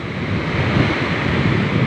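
Ocean surf rolls in a steady, broad roar on a beach with rough, large waves, wind buffeting the microphone; no voices, just continuous water and wind noise nearby.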